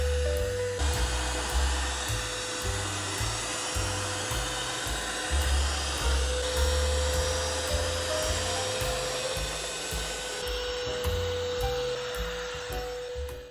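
A Ryobi 18V ONE+ SwiftClean carpet vacuum runs on strong suction, pulling spilled Prime hydration drink out of carpet with a loud, steady motor whine and airflow roar that fades at the end.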